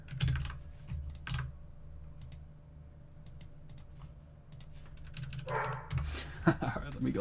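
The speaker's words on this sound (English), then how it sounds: "There's always a dog barking." Fast clicking on a computer keyboard, then a dog barks a few times nearby toward the end, with a voice in the background.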